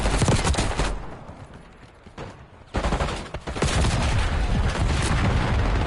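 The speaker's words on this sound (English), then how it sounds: "Sending a Simtex. Concussion grenade!" A concussion grenade going off amid heavy video game gunfire: dense, loud bursts of shooting with a brief lull, then a sharp blast followed by sustained rattling fire.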